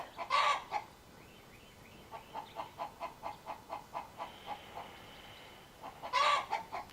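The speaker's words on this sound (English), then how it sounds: "That chicken is hilarious." A chicken clucks in a steady run of short, evenly spaced calls, with two louder squawking bursts at the start and end, heard alone in an indoor room during a yoga class.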